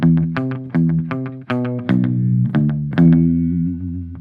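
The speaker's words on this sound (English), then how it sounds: "I changed the settings of my amp so that the tone is more clean. It also has the slapback effect on it" An electric guitar plays a riff through a clean amp tone with slapback echo, plucked notes and chords in a bouncy rhythm, each attack trailed by a short repeat, loud and alone with no voices.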